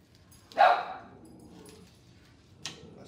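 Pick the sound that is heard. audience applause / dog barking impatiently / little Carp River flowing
dog barking impatiently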